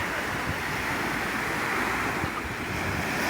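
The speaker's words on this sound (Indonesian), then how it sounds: "tiada lelah ombak berkejar-kejaran" Ocean surf rolls and breaks continuously on a beach in Banten, Indonesia, a loud steady wash of waves mixed with some wind noise.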